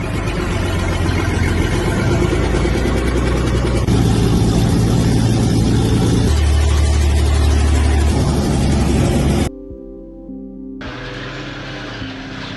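A badly wrecked old car with damage all over, its engine still running: a loud, steady, rough drone close by that cuts off abruptly, then a quieter, thinner running tone returns.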